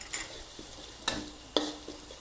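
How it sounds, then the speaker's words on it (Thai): Garlic, coriander root and pepper being stir-fried with pork ribs in a pan, giving a faint sizzle under a few distinct, spaced scrapes and clacks of the spatula, close and quiet. "ทีนี้เราจะเอาซี่โครงหมูลงมาทอดกันแล้วค่ะ ผัดให้มีความเหลืองหอมเลย"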